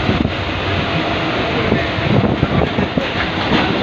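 A Mumbai local train heading toward Ghatkopar rumbles steadily along with a dense rattling clatter and wind noise, loud and close throughout, no voices.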